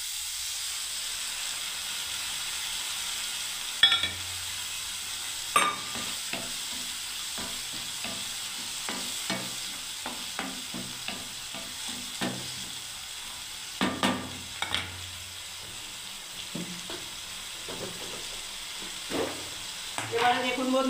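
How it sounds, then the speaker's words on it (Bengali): Tomato paste sizzling in a pan for chaat while being stirred: a steady low frying hiss broken by frequent scraping and clinking stir strokes, with no talk. "এবারে দেখুন বন্ধুরা টমেটোর পেস্ট আমি দিয়ে দিচ্ছি।"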